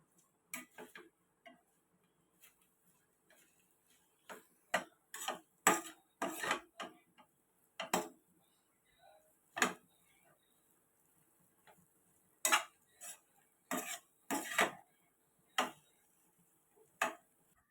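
A utensil clicks and taps irregularly against a pan while eggs are stirred into leftover chapati noodles, with sharp close clinks separated by short quiet gaps.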